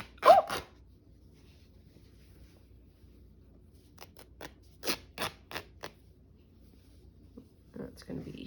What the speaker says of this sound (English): Oh, I love the sound of these scissors.